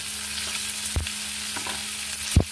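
Chillies and bay leaves frying in hot oil for a Bengali tempering give a steady close sizzle, with a few soft knocks of a spoon against the pan over the crackle.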